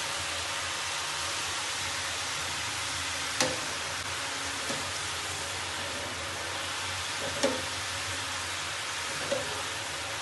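Kodubale snacks frying in hot oil, a steady broadband sizzle running throughout with a few faint clicks and pops, no voices over it.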